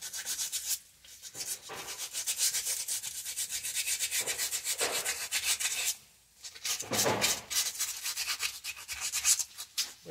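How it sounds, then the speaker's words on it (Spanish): Steady abrasive sanding against the rear brake rotor of a 2016 Ford Transit, a continuous raspy scrubbing in long back-and-forth strokes with a couple of short pauses, close and fairly loud. "Voy a seguir lijando, voy a pausar."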